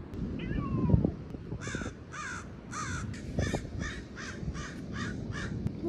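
A crow caws repeatedly in a steady series of harsh calls, moderately close, over low outdoor rumble and faint rustling.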